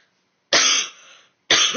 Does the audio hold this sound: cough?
yes